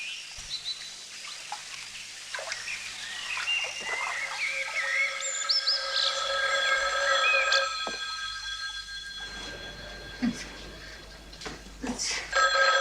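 An old-style telephone rings with repeated bright electronic tones over a quiet background, ringing on and off across the stretch, in a film scene at night.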